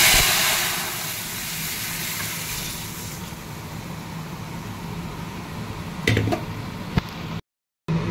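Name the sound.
mung dal tempered with dried chilli, bay leaf, cumin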